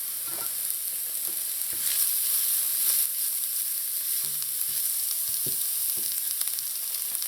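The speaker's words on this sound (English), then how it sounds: "Next I'm going to add in the scallions." Garlic and scallions sauté in a pan for a chicken empanada filling, a steady close sizzle with a few soft utensil knocks and clinks scattered through.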